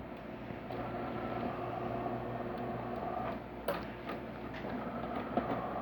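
A Delonghi Rialto espresso machine pulling a shot gives a steady, continuous pump hum and drone with a faint rattling texture, close and even throughout, with one brief sharper click partway through and no talking.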